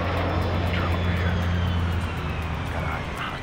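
An enemy drone hovers nearby during a firefight in Ghost Recon Future Soldier, giving off a steady, loud mechanical hum with a droning engine tone that holds for the whole stretch.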